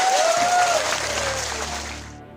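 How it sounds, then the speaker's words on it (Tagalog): An indoor audience applauds in a dense wash of clapping that starts strong and gradually fades over about two seconds. "So palakpak tabi siya,"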